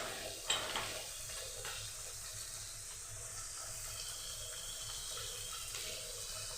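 Ginger and garlic paste sizzle in a hot pan while chicken cooks, a steady close frying hiss that runs throughout, with faint stirring.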